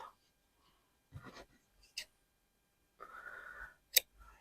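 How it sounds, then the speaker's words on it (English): Scissors snip a length of orange embroidery thread for slow-stitched fabric tags, giving a few short, close, quiet cuts and rustles with a sharp click near the end and no talking. "Snip myself off a length."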